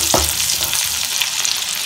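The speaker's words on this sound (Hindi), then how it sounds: "इसे भी फ्राई करेंगे।" Green chillies fry in a pan while preparing chicken Manchurian, giving a steady loud sizzle with a brief thump of them dropping in at the start, no voices over it.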